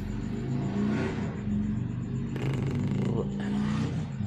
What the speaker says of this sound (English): Motorcycle noise.